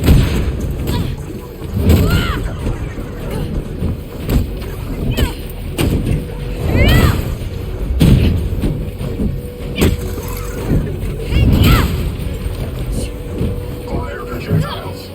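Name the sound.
grenade explosions in video game South Park: The Fractured But Whole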